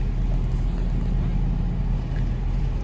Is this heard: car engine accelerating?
yes